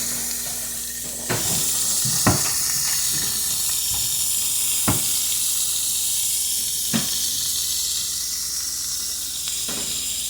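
Coconut oil and butter sizzle in a hot pan on the stove, a loud continuous frying hiss broken by a few sharp clicks or knocks at irregular intervals.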